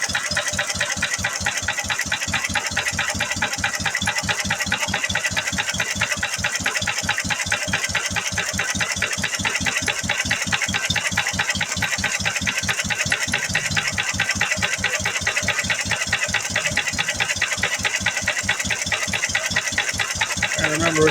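McCormick M tractor engine idling after a cold start, a loud steady rapid chug with even knocking beats and metallic rattle, running close and unbroken throughout.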